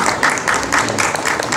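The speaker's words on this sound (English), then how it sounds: "Let's give them a huge round of applause." An audience at a Republic Day celebration at St. Joseph's College clapping, a dense moderate patter of many hands in a hall, steady across the moment without voices.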